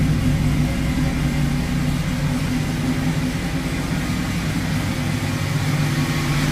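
On an LS-swapped 1978 El Camino, the engine runs at a steady close idle with a faint constant whine layered over the low rumble from the power steering pump.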